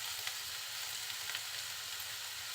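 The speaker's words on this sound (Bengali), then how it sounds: "আবার একটু নাড়াচাড়া করে দিচ্ছি।" Hotel-style potato bhaji frying in a pan while being turned over: a soft, even sizzle and hiss throughout, faint and steady, with no clear stirring strokes and no voices.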